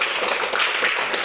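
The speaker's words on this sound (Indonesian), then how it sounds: "Kita berikan tepuk tangan untuk kelompok 2." Classroom applause for a student group during a lesson: a brief, steady patter of many hands clapping together, with no talking over it.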